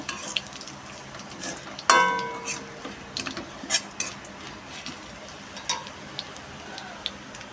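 Whole five-spice, dried chili and crushed garlic frying in hot oil, a soft steady sizzle with a few clinks of a spoon against the pan and one sharper scrape partway through.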